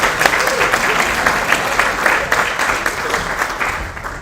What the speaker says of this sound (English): So can we give them a round of applause and say welcome?